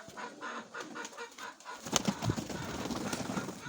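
Pigeons in a Ukrainian pigeon loft in Chornobaivka, Mykolaiv region, giving soft, fairly quiet coos and throaty calls, with a few sharper bird sounds and faint rustling partway through.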